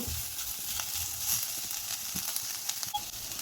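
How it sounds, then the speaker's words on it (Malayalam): Steady soft sizzling of vegetables sautéing on a low flame for chicken vegetable soup, continuous and even, with faint scrapes of stirring now and then. "ചെറുതീയിൽ നമുക്ക് ഇതിലൊക്കെ വാട്ടിയെടുക്കാം"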